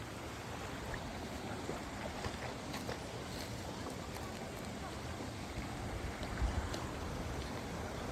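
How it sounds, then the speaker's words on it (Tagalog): A river's running water rushes along its bank in a steady, broad wash, with faint voices and occasional small knocks mixed in. "Lakas ng running water niya sa gilid, oh."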